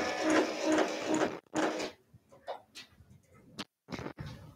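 A Brother embroidery machine stitches a monogram onto a beach towel, giving bursts of rapid mechanical whirring and clicking broken by short pauses, close and fairly quiet.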